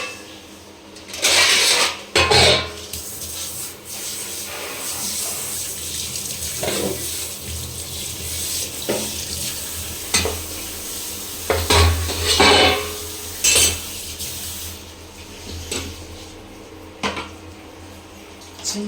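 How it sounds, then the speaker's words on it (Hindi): A spoon being rinsed under a running kitchen tap while cooking, with steady flowing water and scattered metallic clinks of cutlery and dishes against the sink throughout. "चम्मच को भी धो लेते हैं।"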